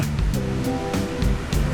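Rushing river water flows steadily and loudly near a waterfall, a broad continuous wash with rhythmic surges, with no voices.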